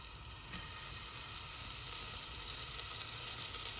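Butter sizzles steadily in a pan as it browns, a soft, even, crackling hiss with a few faint pops and no voices.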